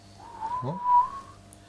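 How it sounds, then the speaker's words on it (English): A person whistles a single rising-and-held tone with a quick warbling dip in the middle, close and clear over quiet room background during a Warhammer 40k tabletop game. "Did you just whistle and just do that?"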